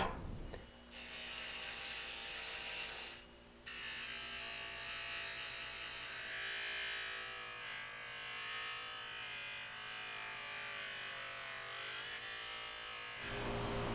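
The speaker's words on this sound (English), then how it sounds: "these are going to get polished on the polishing wheel" Vintage Pep Boys tool kit parts pressed against a motorized polishing wheel with black compound, producing a steady electric motor whine and hum with a rising, grinding rub as metal meets the wheel, briefly easing midway.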